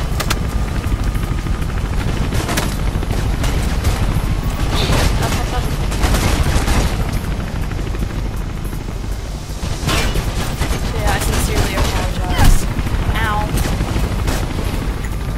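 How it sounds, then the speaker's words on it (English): Sniper gunfire in the video game Mirror's Edge: sharp shots and booming cracks burst out repeatedly over a continuous noisy backdrop of game sound, steady and loud throughout with a stronger blast near the end. "Snipers shooting at you"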